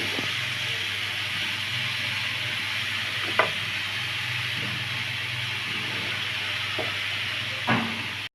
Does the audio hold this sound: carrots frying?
yes